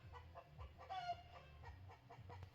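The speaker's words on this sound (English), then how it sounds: "chicken just laid an egg" A chicken clucks in a rapid, repeated burst right after laying an egg, nearby and fairly loud, with a brief squawk in the middle.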